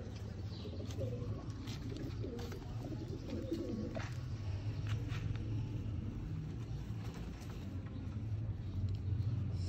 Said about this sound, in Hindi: ये बहुत असल बटेरे कबूतर